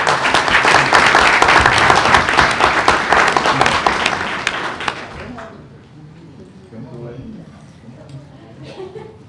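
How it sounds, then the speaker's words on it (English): An audience at a school board meeting applauds the superintendent's wife, with dense, loud clapping for about five seconds that then fades into quiet murmuring and talk. "Let's give her a round of applause"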